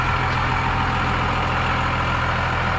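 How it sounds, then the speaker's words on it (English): A Ford 6.7 Powerstroke diesel swapped into an old truck idles loudly up close, giving a steady, dense low rumble with constant mechanical clatter and no pauses. "It's loud from the motor."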